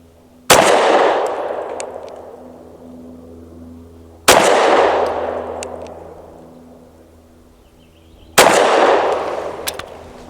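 Three loud, close pistol shots from a Tisas PX-9 Duty Comp firing Blazer reduced-recoil 100-grain ammo, each a sharp crack with a long echoing decay, spaced about four seconds apart.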